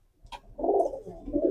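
Pigeons in a colony of tournament champion birds give low, throaty coos, one short call followed by a longer rolling coo close by.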